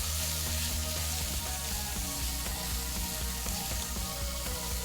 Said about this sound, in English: by sauteing that off, you're bringing out all the flavors, and it's like a quick fry